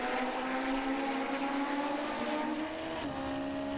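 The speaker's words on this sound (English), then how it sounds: "You can hear James Holman working his way up the sequential gearbox" A race car on the Nürburgring circuit climbing through a sequential gearbox, a steady droning engine note heard from a distance with a faint shift break near the end, no voices.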